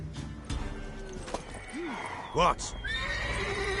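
A horse whinnies in a video game, its rising and falling neigh rings out loudly around the middle, with clip-clop hooves and a game voice speaking.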